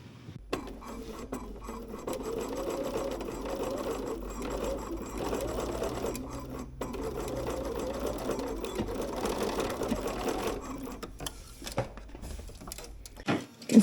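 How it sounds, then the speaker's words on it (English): A sewing machine stitches a velvet loop for a coat at a quarter-inch seam allowance, running steadily with a continuous fast whirring patter for most of the stretch, close and clear with no talk. "I'm going to sew this up real quick"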